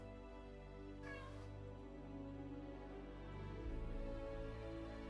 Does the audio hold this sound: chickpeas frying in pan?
no